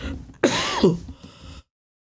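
A person clears their throat once, a rough raspy rasp with a short throaty tail, fairly close, then silence.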